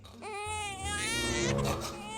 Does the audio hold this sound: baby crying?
yes